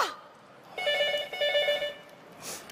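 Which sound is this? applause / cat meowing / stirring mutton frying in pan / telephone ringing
telephone ringing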